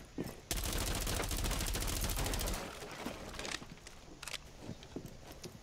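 Rapid automatic gunfire from Rainbow Six Siege on the Bank map bursts loud and dense for about two seconds, then gives way to scattered shots, footsteps and faint talk.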